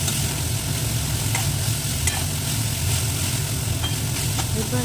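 Chopped vegetables for a sweet corn and mushroom soup sautéing in a pan, with a steady, dense sizzle that stays loud and even throughout and faint clinks of stirring over it.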